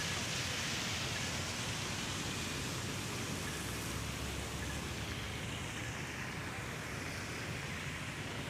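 Heavy, wind-driven rain pours down over a bridge on Avenida Dom Aguirre in Sorocaba, São Paulo, a dense, steady roar of broadband noise that holds constant and loud throughout, with no voices.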